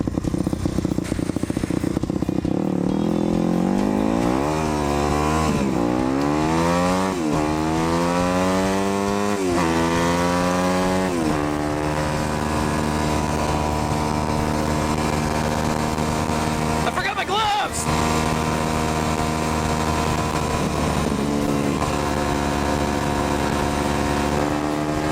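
A street-legal Yamaha WR250F dirt bike engine runs close by, revving up and down in rising sweeps before settling into a loud steady idle, with someone talking over it.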